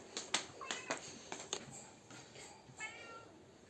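A house cat gives a quiet meow near the end, preceded by a scatter of soft clicks and taps in a calm indoor room.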